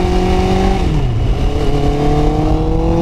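Honda CBR650R motorcycle fitted with a 2019 Yamaha R1 exhaust ridden through town, its engine a loud steady drone that shifts pitch as the rider changes gear.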